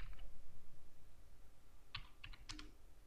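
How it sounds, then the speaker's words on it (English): Quiet clicks from a computer keyboard as text and numbers are typed into a form, arriving as a few light, separate keystrokes late in the moment over faint room noise. "Here you can type text and number,"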